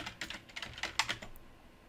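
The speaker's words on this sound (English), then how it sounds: "We're going to type in outline." Quick burst of keystrokes on a computer keyboard, about a dozen light clicks in an uneven rhythm, close and quiet, tapering off after a second.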